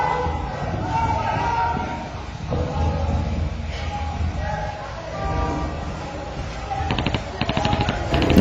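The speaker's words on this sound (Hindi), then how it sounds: "यहां देखिए, गोलियां चल रही।" Bursts of gunfire crackle amid a noisy, chaotic street clash in Mokama, India, with stone-throwing, shouting voices and commotion throughout, the shots sharp and rapid toward the end.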